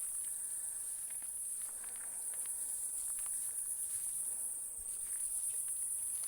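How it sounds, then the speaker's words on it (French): Crickets chirp steadily at night in a bamboo forest, a faint continuous high trill with scattered soft rustles and light footsteps nearby, no talking. "Vous allez entendre les grillons à la caméra"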